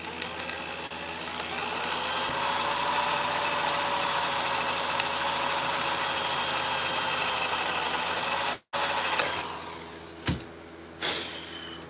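Power drill enlarging a hole in medieval leg armour, a steady close whirring drone for about eight seconds, then a sudden stop followed by a couple of short bursts and clicks.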